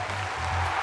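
Studio audience at a Chinese television variety show clapping in a steady, even wash of applause that holds at a moderate level for about a second.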